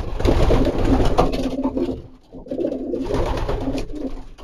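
Racing pigeons coo close by in low, throaty murmurs, with rustling and a brief lull midway before the cooing resumes.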